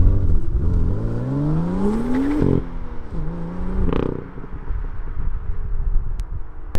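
A BMW M2 F87 fitted with a modified aftermarket exhaust drives by road, its engine droning and rising in pitch through an acceleration, easing off, then pulling again, with steady road and wind roar throughout.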